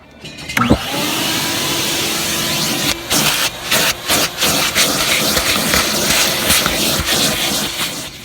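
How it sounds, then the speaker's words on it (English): A steady, loud whooshing roar of a vacuum cleaner runs throughout, with a few brief bumps and rattles as it moves. "I got the vacuum here, and we'll go ahead and start doing that"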